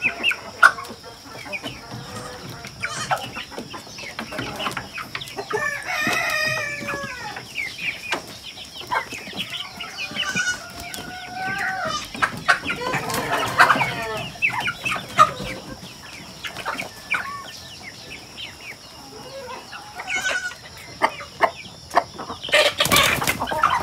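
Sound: chickens clucking and crowing on a farm

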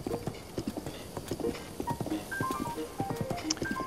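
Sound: horse galloping hooves in Zelda Breath of the Wild video game

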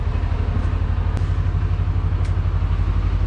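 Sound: Toro Wheel Horse 520H garden tractor engine cranking with jumper cables

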